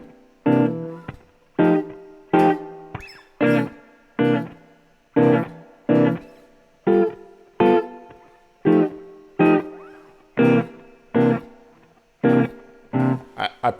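Chords for a song strummed on a guitar, one crisp chord at a time in an even, spaced rhythm, each ringing briefly before the next, with no talking over them.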